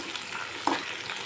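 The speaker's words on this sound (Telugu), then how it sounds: "ముందుగా కట్ చేసి పెట్టుకున్న ఆనియన్స్, బ్రౌన్ కలర్ వచ్చే వరకు వేయించుకోవాలండి" Onions frying until brown in a pan, a steady soft sizzle with a faint stirring scrape, close and alone without voices.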